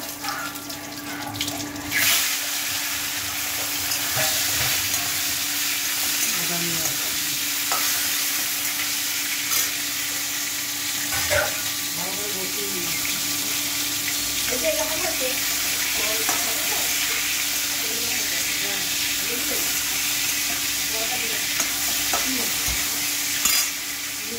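Bay leaf tempering spits in hot oil with a steady sizzle that runs the whole time, broken by occasional scrapes and clinks of a spoon against the pan, and a faint constant hum sits underneath.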